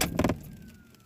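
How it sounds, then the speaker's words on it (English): A car engine being switched off: a short burst of rumbling that quickly fades away into quiet. "Salaki, I just turned the car off"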